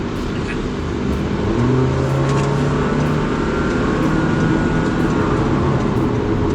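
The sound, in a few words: new Honda City car engine revving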